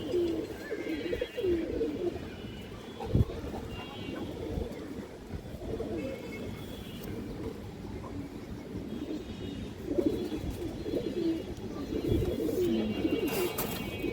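A pair of pigeons, a male and a female kept for sale, give low, repeated throaty coos close by over a faint background hum.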